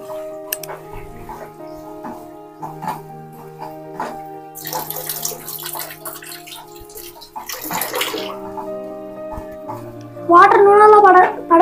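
A kitchen tap runs in bursts while hands are washed during a chicken fry, the water splashing on and off under people talking nearby, ending in a loud close rush of water.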